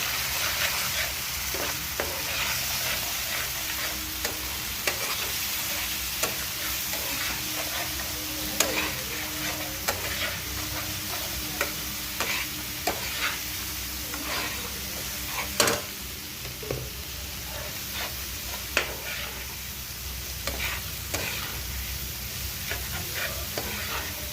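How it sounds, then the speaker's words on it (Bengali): Potol kalia masala, a pointed gourd curry base, is sautéed in oil with constant stirring: an even, close sizzle broken by regular scraping ticks of the spoon against the pan. "এখন ভালো করে কষবো"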